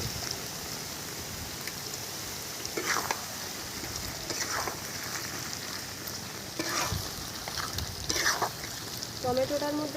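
Tomato going into frying mutton masala for a thin goat curry, a steady close sizzle with spatula scrapes and a few sharper crackles, fairly loud and continuous.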